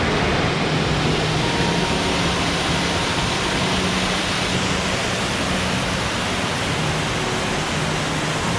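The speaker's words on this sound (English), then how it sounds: "there's multiple waterfalls you come across, and this is one of them." A waterfall on a creek along the trail to Raven Cliff Falls roars as a steady, loud broadband rush, unchanging and close, with no talk over it.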